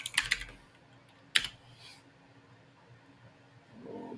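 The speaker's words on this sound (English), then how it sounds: "So let's type in careers." Quick keystrokes on a computer keyboard: a short cluster of clicks, a pause, then another tap, close and quiet in a calm room, followed by a faint soft murmur at the end.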